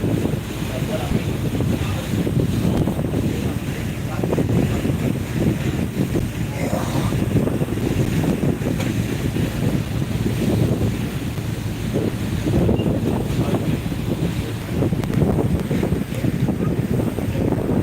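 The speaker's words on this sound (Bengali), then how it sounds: "অনেকগুলো ট্রলার স্যার" Fishing trawlers out on a river for hilsa, with steady wind buffeting the microphone and a broad rumble of water and engines running continuously and fairly loud throughout.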